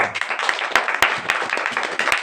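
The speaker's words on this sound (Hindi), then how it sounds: "जोरदार ताली बजाइए।" An audience bursts into loud, dense clapping, many hands striking in quick irregular bursts close by for about two seconds.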